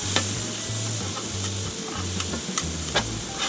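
Cheesesteak meat sears on a Blackstone griddle over high heat, a loud dense sizzle with intermittent spatula taps and scrapes against the flat top.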